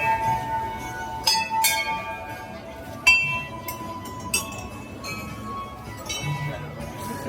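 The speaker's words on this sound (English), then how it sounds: "Started the Himalaya bell ringing club." Bells at the Himalaya area of Disney's Animal Kingdom ring out in scattered metallic strikes and clinks, several sharp hits ringing over crowd noise and people talking nearby.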